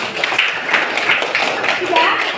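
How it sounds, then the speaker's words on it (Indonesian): A classroom group claps together in a dense, steady patter of many hands, loud and close, with voices mixed into the clapping throughout. "Tepuk tangan buat kita semua."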